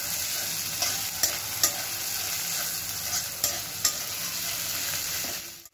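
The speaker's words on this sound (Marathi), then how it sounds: "आता हे आपण छान फ्राय करायचं आहे।" Garlic and green chilies fry in a pan with a steady, dense sizzle throughout, with a few sharp spatula scrapes and taps along the way before the sound cuts off at the end.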